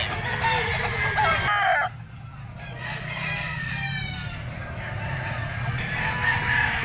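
Gamefowl roosters crow at a busy Sunday market, loud and nearby, with a sharp crow early on, then layered clucking and more distant crowing over steady crowd noise.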